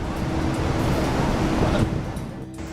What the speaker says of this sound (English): Excited onlookers embrace the unexpected fountain as a massive ocean wave crashes through the